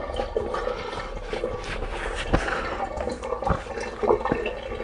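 Engine oil from a Peugeot 3008 1.5 BlueHDi trickles steadily into a pan during an oil change, a continuous close splashing stream with a few louder drips and no talking.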